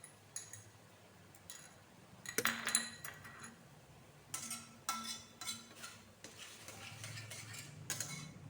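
Sour yogurt (curd) is whisked in a bowl with a utensil, giving scattered clinks and scraping strokes in short bursts, close and moderately loud with quiet pauses between.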